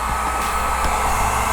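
Electric heat gun running on a Mercedes to soften and loosen glue, a steady loud blowing whir with an even fan hum, close and continuous, no talking.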